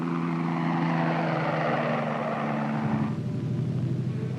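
A low, fairly slow-flying crop-dusting helicopter drones steadily with a deep rotor and engine rumble, loud and continuous, shifting slightly in pitch as it passes.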